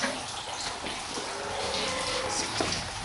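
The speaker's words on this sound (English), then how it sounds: "Now look at how the water is getting out from the other end." Water draining out through the outlet at the far end of a circular fish tank, a steady broadband rushing and trickling flow that stays fairly loud and continuous throughout with no voices over it.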